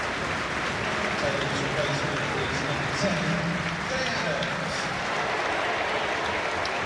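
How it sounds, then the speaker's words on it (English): A football stadium crowd at Southampton's FA Cup tie against Walsall roars as striker Che Adams comes on as a substitute, a dense, steady wall of cheering and applause with voices mixed in, sustained throughout. "Big cheer for Che Adams, who has 6 goals this season."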